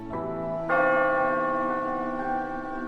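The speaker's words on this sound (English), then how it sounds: "the sound of church bells tolled in the distance" A church bell strikes twice, its resonant tone ringing out and slowly fading, with no other sounds around it.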